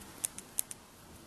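Gerber Suspension multitool scissors cutting paper, four quick, crisp snips in a short burst, close and fairly quiet.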